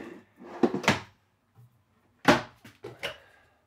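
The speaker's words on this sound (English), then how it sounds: "And then you have your pull-out drawers here." A pull-out drawer in a 2022 Montana High Country 385BR fifth-wheel RV slides out and shuts, then slides again, with a few short wooden knocks and scrapes, close by and fairly loud.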